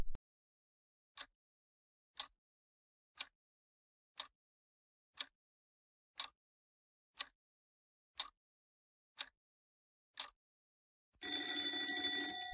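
An alarm clock rings with ten short, evenly spaced bursts about a second apart, then breaks into a loud continuous bell ring at the end. Set in a quiz timer.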